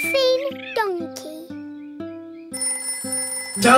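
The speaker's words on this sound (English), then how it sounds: "Telephone's ringing." A cartoon telephone in a Peppa Pig episode rings in a steady repeating pattern of short electronic trills, about seven pulses in quick succession, with a brief cartoon voice-like sound at the start.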